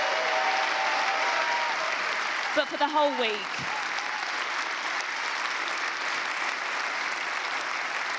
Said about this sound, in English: we should get the crowd to applaud your performance today